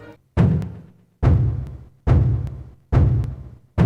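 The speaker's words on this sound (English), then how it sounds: "If you actually listen to the beat that Bongo Bongo plays" Four heavy, booming drum hits from Bongo Bongo's beat in Zelda's Shadow Temple, at a slow, steady pace, each ringing out with a deep low thump and a long decay.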